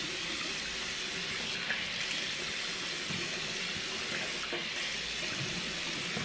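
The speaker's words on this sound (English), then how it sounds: "So let me just apply more water to my face." A bathroom tap runs steadily at a sink during a wet shave, giving a continuous even hiss of flowing water with slight splashing variations.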